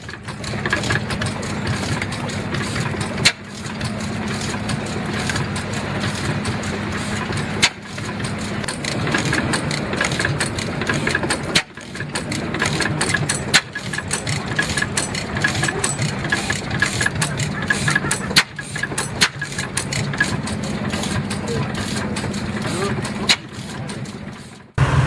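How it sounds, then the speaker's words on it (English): A vintage Scherer & Gross static engine, exhibited at Bulldog Freunde, runs steadily with a low, continuous mechanical drone and occasional sharp knocks at irregular intervals, loud and close throughout. "The Scherer & Gross's static engine is a standout example of precise, enduring engineering."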